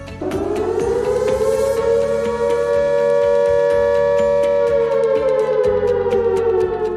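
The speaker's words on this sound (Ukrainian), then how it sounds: "Вибачте, зараз повітряна тривога, виходимо всі з приміщення." A loud, sustained air raid siren wails continuously during an alert in Brovary, Ukraine, its steady tone slowly rising and falling, with faint clicks and knocks underneath.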